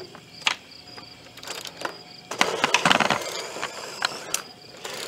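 A hand-cranked apple cider press works with ratcheting clicks, creaks and metallic mechanism noise, nearby and steady, growing busier and louder midway through.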